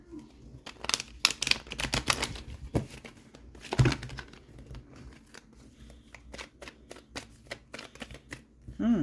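Tarot cards being shuffled by hand, a series of soft riffling and flicking bursts, close and quiet, with brief pauses between them.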